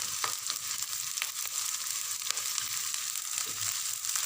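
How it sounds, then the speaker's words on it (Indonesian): Garlic frying in a pan while being stirred, a bright, steady sizzle close up with repeated light scrapes and clicks of the utensil against the pan. "Masukkan bawang putih,"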